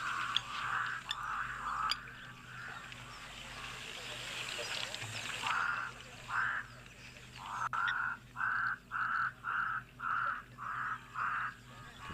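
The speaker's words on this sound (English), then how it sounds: "You can also just hear those Cape crows." Cape crows call out in the bush, a series of short harsh caws that come in bursts and then a steady run of evenly spaced calls, moderately distant.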